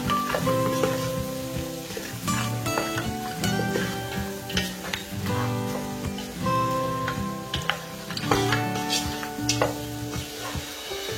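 A Togolese tomato sauce with meat, tomato paste and ground pepper is stirred in a sizzling pot, with repeated scraping and clicking strokes over a steady fry, close and fairly loud.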